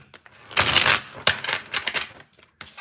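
Tarot cards are shuffled in quick riffling bursts, a long papery flutter followed by shorter snaps and rustles, close and fairly quiet.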